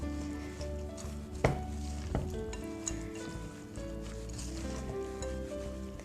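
Christmas pudding ingredients with mixed spice being stirred in a bowl, a soft continuous mixing rustle with a few sharper knocks of the spoon, over a faint background hum.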